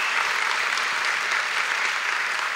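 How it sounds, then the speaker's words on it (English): An audience at a chamber of commerce installation breakfast in Fort Walton Beach applauds, a dense, even wash of clapping from many hands that fills the room without pause. "So give yourselves a round of applause for that."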